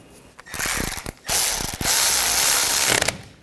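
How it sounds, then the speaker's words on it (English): Ratchet wrench clicking rapidly in several bursts while tightening brake caliper bolts on a 2014-2020 Nissan Rogue front brake, loud and close, with brief pauses between runs of clicks. "Tighten these down. Torque these bolts to 25 foot-pounds."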